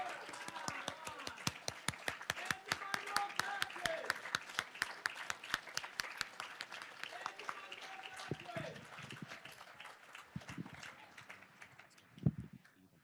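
Audience applause at the opening plenary of a Latin American policy forum, a steady patter of claps that thins out toward the end, with scattered voices around it.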